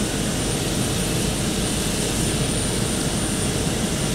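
A Boeing 727's jet engines run up during a start sequence in the Captain Sim flight simulator game, giving a loud, steady broadband roar with a high whine that stays constant throughout, with no talk.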